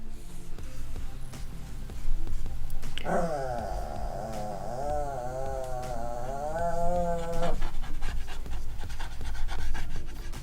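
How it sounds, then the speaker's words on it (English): A pet dog pants rapidly and steadily at close range, with a whining, whimpering tone rising through the middle stretch, indoors without talk. "Do you hear my crazy dog?"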